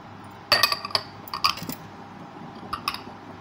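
A spoon clinks against a glass bowl while onion extract is mixed into a homemade hair-fall remedy, a burst of quick taps followed by a few scattered clinks, close and fairly quiet.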